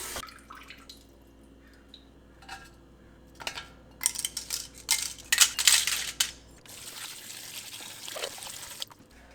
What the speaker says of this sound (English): get to rinsing the sea moss